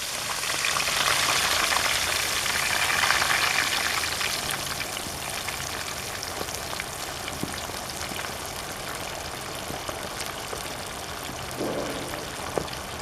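Copycat KFC-style chicken deep frying in hot oil gives off a dense, crackling sizzle with scattered pops. It holds steady at close range and slowly eases a little, with no talk.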